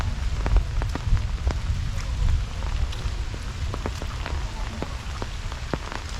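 Heavy rain pours over a green village paddy field, a loud, dense hiss with countless close drops pattering on surfaces throughout.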